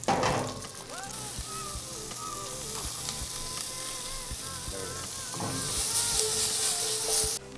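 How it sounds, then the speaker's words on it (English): Asparagus sizzles steadily in hot vegetable oil in a stainless steel pan, a dense crackling hiss that holds throughout and swells louder toward the end, with occasional clinks of stirring. "We're gonna drop in some of our asparagus, get that sizzle, get it back on the heat."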